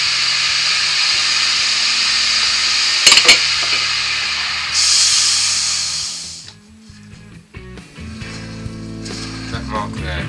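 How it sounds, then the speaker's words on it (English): Wood lathe turning with a bowl gouge while hollowing a bowl: a steady, loud hiss of the cutting edge over the whirring spindle, breaking off after about six seconds into quieter scraping and rhythmic tapping. "So back to the bowl gouge."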